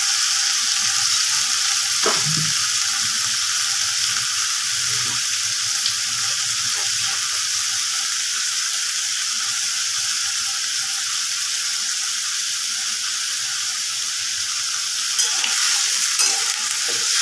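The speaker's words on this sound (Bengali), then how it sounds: "একটু ভাজা ভাজা করে নেব।" Potato, pumpkin and pointed gourd frying in a pan give a loud, steady hiss that carries through the whole stretch, with a few stirring knocks.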